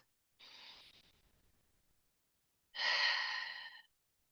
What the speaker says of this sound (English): So I invite you to take a deep breath with me.